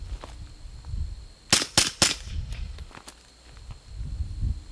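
A Glock pistol fires rapidly, a quick burst of three sharp, loud shots in close succession, with softer shuffling and handling noise before and after.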